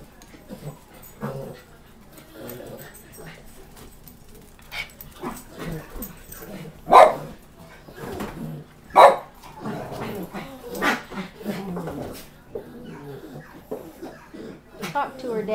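A pet dog barks twice in sharp, separate bursts amid panting and soft whimpers, while people talk nearby in the room.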